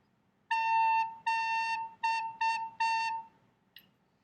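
On a single clear pitch, a recorder is played with tongued articulation in five distinct notes, two long, two short and a last long one, close and alone, followed by a brief faint click.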